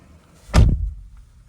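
A single solid thunk of a new truck's door opening, close and fairly loud, with a short low rumble trailing off into quiet.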